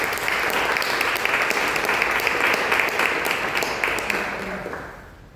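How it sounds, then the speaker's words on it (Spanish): A university lecture audience applauds loudly and steadily for several seconds, a dense sustained clapping that holds at a constant level before tapering off at the end. "Así que un aplauso, por favor."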